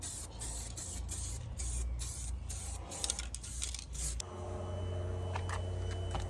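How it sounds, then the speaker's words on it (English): Aerosol spray can pulsed in short bursts by a finger on the nozzle while coating VW Beetle drop spindle parts, giving repeated close hissing puffs with brief gaps, then a longer steadier hiss toward the end. "Probably notice that I'm not just holding the nozzle down completely,"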